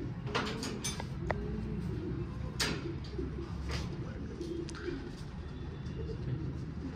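Racing pigeons coo softly inside a loft, their low murmuring calls blending with wing flutters and faint background movement, while someone talks nearby.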